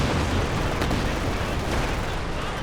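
Gunfire in a Company of Heroes 2 battle, a dense rumbling barrage of overlapping shots and blasts, with one sharper crack standing out early, loud and continuous.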